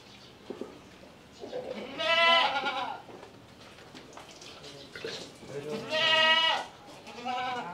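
Goat bleats twice, loud and harmonic, while it is held down on a farm and dosed with deworming medicine after rain, with handling noise and faint voices between the calls.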